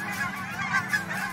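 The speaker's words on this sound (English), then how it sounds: "the geese are going crazy." Geese by a lakeside honk loudly and insistently, a close, continuous clamor of overlapping calls with no talking.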